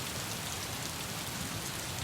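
Heavy rain pours steadily in Karnataka, flooding low-lying homes, a dense continuous hiss of drops on surfaces filling the whole stretch at an even, loud level with no voices.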